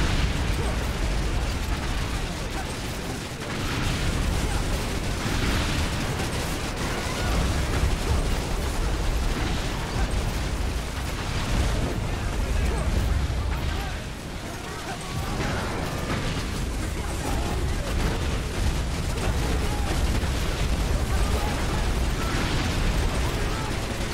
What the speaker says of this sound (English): So, even airstrikes can't harm Urginus,